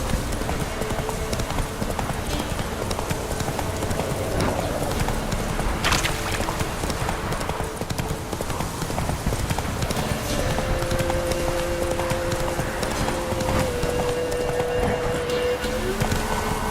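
Roach the horse galloping in The Witcher 3, a rapid, steady run of hoofbeats on the ground that stays close and even throughout.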